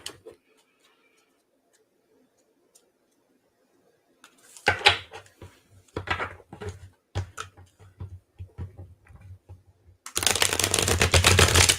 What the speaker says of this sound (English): I will pull a card from this deck for you.